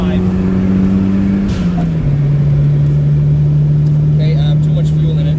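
A Toyota MR2 engine, run without a wideband sensor and fuelling rich, pulls hard and loud from peak torque toward redline in third gear, a steady droning tone climbing briefly before settling, with a voice talking over it.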